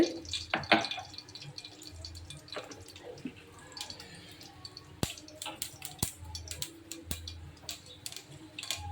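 Mustard seeds and fenugreek splutter in hot oil for tomato rasam, giving scattered sharp pops and crackles at a low overall level, some in quick clusters and some alone.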